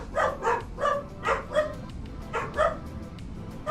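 Dogs in the Farming Simulator 25 video game bark in a quick series of about eight yaps in small bursts, fairly close, with no talking over them.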